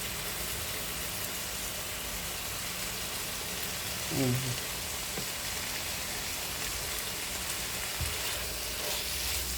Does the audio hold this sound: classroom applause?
no